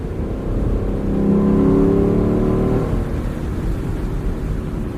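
A Lexus convertible engine revs and rises in pitch, swelling to a peak before settling into a steady driving drone, loud and close with no voices.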